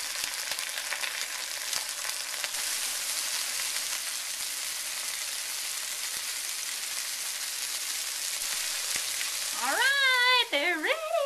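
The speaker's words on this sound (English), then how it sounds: "we're going to go ahead and put the chicken in there" Seasoned chicken pieces for Greek pitas sizzling in a hot pan, a steady close frying hiss that carries on for several seconds before a brief burst of sound near the end.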